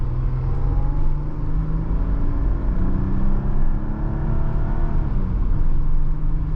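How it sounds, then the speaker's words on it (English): A 2005 Mercedes-Benz E320 wagon with the M112 V6 and about 179,000 miles accelerates steadily from inside the cabin, a continuous close engine drone whose pitch climbs and then drops as the automatic transmission shifts smoothly. "Beautiful shifting, beautiful smooth shifting transmission."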